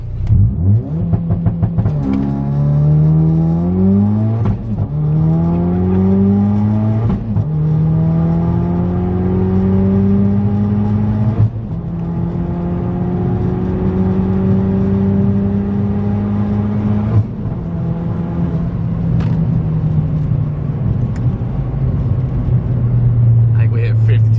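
A Ford Focus RS with an ETS intercooler launches and accelerates hard, the engine roaring up through several gear pulls with rising pitch, each shift a brief dip. The sound is loud and close from inside the car.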